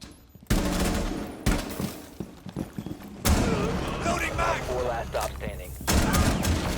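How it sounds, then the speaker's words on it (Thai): C8 SFW assault rifle fire in Rainbow Six Siege comes in rapid bursts with loud, close repeated shots, while someone talks in Thai over much of it. "assault rifle ก็คือ C8 SFW นะ เป็นปืน assault rifle"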